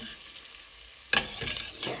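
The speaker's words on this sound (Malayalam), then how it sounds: "അപ്പോൾ അരിഞ്ഞ് വെച്ചിരിക്കുന്ന തേങ്ങക്കൊത്ത് ചേർത്ത് വറുത്തെടുക്കാം" Coconut pieces hit hot oil in a pan for kalathappam, bursting into a sudden loud sizzle after a quiet second, then crackling and hissing steadily.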